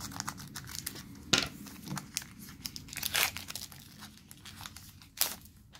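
Crinkly plastic foil of a Pokémon booster pack tearing open, with a handful of sharp rips among steady close crumpling and crackling.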